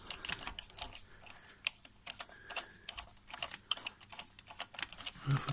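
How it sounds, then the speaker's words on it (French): A ratchet wrench clicks in quick, irregular bursts while unscrewing a spark plug on a Peugeot 206, a dry, close ticking heard fairly quietly. "On prend notre super clé à cliquer, on dévisse entièrement la bougie"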